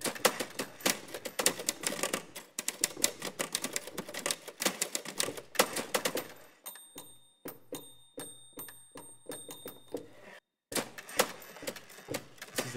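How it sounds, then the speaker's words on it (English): A deeply sampled typewriter from a cinematic percussion library clatters in rapid, uneven keystrokes, then slower single strikes with a ringing carriage bell near the middle, close and crisp with no talk. "A very deeply sampled typewriter."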